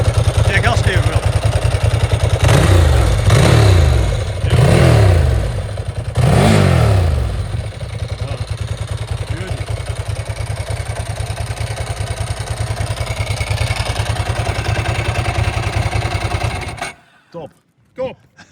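A 1993 Ducati 888 Strada motorcycle engine idling with a deep, loud rumble and blipped several times into sharp revs, then settling to a steady idle before cutting off, with voices briefly over it.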